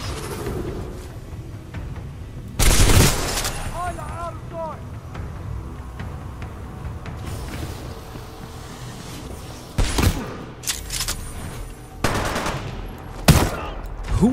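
Titanfall 2 gunfire comes in loud bursts, first a heavy volley near the start, then several sharp clustered shots toward the end, with game sounds in between.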